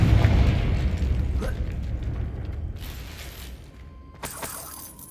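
A Confringo explosive spell blast in Hogwarts Legacy: a loud booming burst with shattering debris at the start that fades into mechanical clatter, then a second sharp crack near the end.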